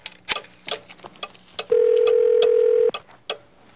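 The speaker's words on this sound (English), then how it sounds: "A very, very old phone." An old telephone in the Gabriel Knight 2 adventure game gives a steady dial tone lasting about a second, set between a series of sharp clicks and taps from the handset and dial.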